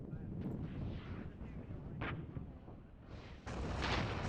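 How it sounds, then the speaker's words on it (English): Artillery fire in the real-time tactics wargame Regiments, with dull distant booms over a constant windy rumble and a sharper report near the end. "I need to counter battery this artillery."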